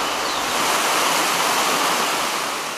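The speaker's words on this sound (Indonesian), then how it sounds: "terdapat Sungai Lakonja yang memiliki air terjun bertingkat." A broad, steady roar of a tiered waterfall on the Lakonja River in eastern Indonesia, loud and constant like falling water close by, with no voices.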